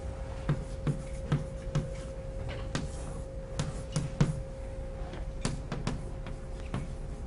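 Chalk writing on a blackboard, heard up close as a series of sharp taps and short scratchy strokes in irregular bursts, alone in a quiet room.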